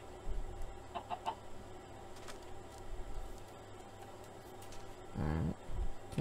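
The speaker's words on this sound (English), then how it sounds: "Come on, chicken." A chicken in the video game Minecraft clucks in short bursts over steady background game ambience, with a louder run of clucks near the end and no speech.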